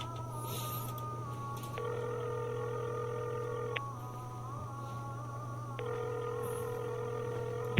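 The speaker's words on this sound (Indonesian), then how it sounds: "Aku telepon dulu" Phone call being dialed: quiet electronic telephone tones over a constant low hum, with two long flat ringback tones each lasting about two seconds, separated by a short gap, no talk.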